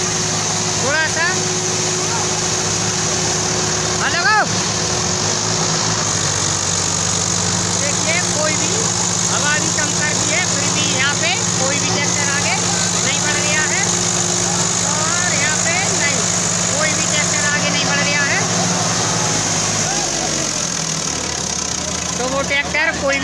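Two tractors, a Swaraj 744 XT and a Sonalika DI 35, strain against each other in a tug-of-war, their engines holding a steady mid-pitched drone throughout while someone talks over them and a crowd murmurs.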